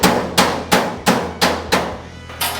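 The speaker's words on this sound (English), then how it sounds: "And we'll just go along it with a hammer." A hammer strikes a rusty car door panel to fold the metal into a V shape, landing about seven sharp, loud, evenly spaced ringing blows up close.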